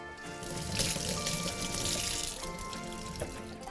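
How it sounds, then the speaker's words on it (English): Tap water runs steadily over celery stalks in a sink, a close, continuous splashing and trickling stream with no talk. "just pull off your celery and give it a wash"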